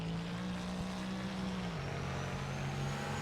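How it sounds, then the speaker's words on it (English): A race car engine in the rFactor 2 racing sim drones steadily at close range, its tone dropping in pitch partway through and holding at the lower note. "they've got the sound of the car right"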